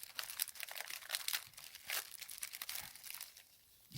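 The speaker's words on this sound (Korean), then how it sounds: "그리고 면봉을 뜯어보겠습니다." Someone tears open a cotton swab package during a COVID-19 antigen self-test. The plastic wrapper gives quiet, close crinkling and ripping bursts that come in irregular spurts and fade toward the end.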